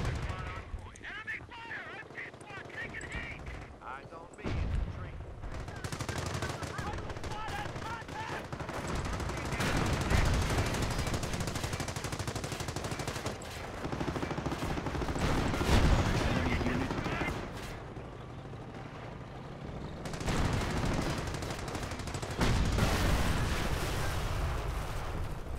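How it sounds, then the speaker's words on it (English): Tank cannon and machine-gun fire from a Cromwell tank engaging a Panzer in the Company of Heroes WWII strategy game, dense continuous battle noise with repeated heavy bursts, while someone talks over it. "Right, shoot that Panzer in the arse."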